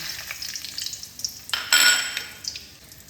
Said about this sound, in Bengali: পেঁপে ভাজার তেলে আমি 2টো শুকনো লঙ্কা, 2টো তেজপাতা, 4টে লবঙ্গ, দারচিনি আর 4টে এলাচ আমি ফোড়ন দিয়ে দিচ্ছি।